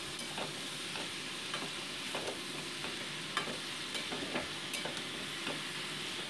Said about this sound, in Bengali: এবার অ্যাড করে দিচ্ছি আমি স্ট্রেনারে ঝরিয়ে রাখা সবজিটা দিয়ে মোটামুটি এটাকে 5 মিনিটস ভালো করে কষিয়ে নিচ্ছি।